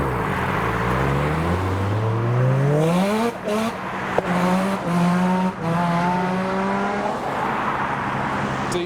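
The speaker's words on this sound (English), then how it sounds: "we're all looking forward to hearing the RX-7 as it departs" Mazda RX-7 revving hard and pulling away from a car meet, engine pitch climbing through several gear changes, loud and close, with crowd noise and voices underneath.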